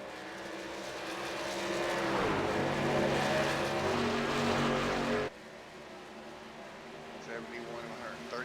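Racing trucks roar past at Homestead Miami Speedway in a droning, pitch-shifting engine wash that swells loudly, then cuts abruptly to a quieter distant hum.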